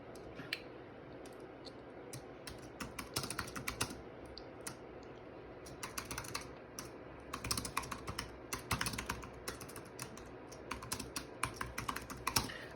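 Steady typing on a computer keyboard while an email is composed, with dense bursts of quick key clicks coming in uneven runs and brief pauses, close and fairly quiet, with no talking.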